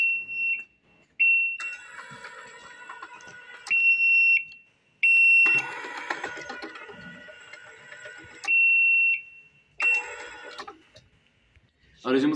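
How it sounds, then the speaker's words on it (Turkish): A robot vehicle built for a Teknofest digital technologies contest sounds its obstacle warning, a shrill electronic beep repeated in short bursts that alternate with louder mechanical whirring and clatter, recorded close up. "Aracımızın engel seslerini yapıyoruz."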